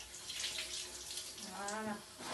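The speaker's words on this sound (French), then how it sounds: "Un peu de savon. On rince les mains." Water running from a tap while hands are rinsed under it: a steady, faint hiss of flowing water throughout, with a brief splashy gurgle midway, heard close and without talk.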